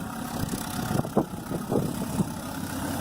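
John Deere 540B skidder running again after sitting unused for a couple of years, its engine chugging low and fairly quiet, with a few uneven knocks and puffs over a steady idle.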